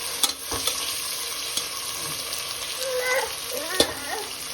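Onions sizzle and fry steadily in a pan for vegetable pulao, with occasional sharp stirring scrapes and clinks over the continuous hiss.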